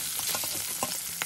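A fish head frying in hot oil gives a steady, close broadband sizzle, with a few short scraping or stirring knocks over the brief span.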